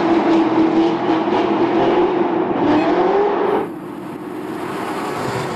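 Chevrolet Corvette ZR1 driving on a slick indoor floor, its engine roaring loud and steady with a rising whine, then dropping sharply in level as the throttle eases off.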